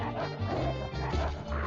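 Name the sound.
dog barking in video game Call of Duty Mobile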